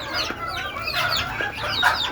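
Native desi chickens cluck steadily on a rooftop during monsoon rain, several birds calling over one another at close range with no talk.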